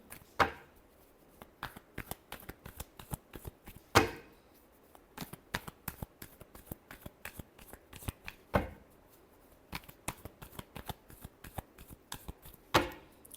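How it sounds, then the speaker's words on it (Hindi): Tarot cards being shuffled by hand, close and crisp: a steady run of rapid papery riffles and snaps, with a few louder slaps of the deck at intervals, and no voices. "last shuffle"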